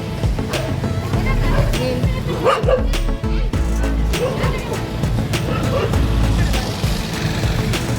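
A dog that darted across the road in front of a vehicle barks repeatedly, sharp and loud, over a rumbling engine and road noise with some voices mixed in.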